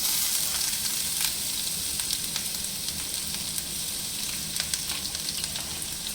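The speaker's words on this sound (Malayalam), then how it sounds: "നമ്മളെ ഈ വെളുത്തുള്ളി, ഇഞ്ചി, പച്ചമുളകൊക്കെ അരിഞ്ഞതിടുകയാണ്." Chopped garlic, ginger and green chilli sizzle in hot oil for a spicy red chicken curry. A steady, close frying hiss carries scattered sharp pops and crackles throughout.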